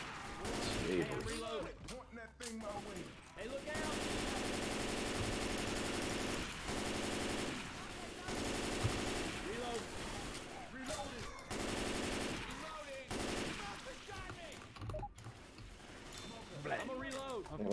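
Sustained automatic gunfire and rapid shots in the zombie shooter game Left 4 Dead 2, loud and nearly continuous throughout, with players talking over the shooting.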